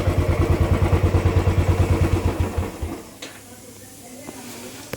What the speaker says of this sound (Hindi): मैं अभी ये बाइक पहले बंद कर देता हूँ।